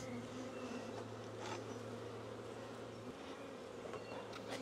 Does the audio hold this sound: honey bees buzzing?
yes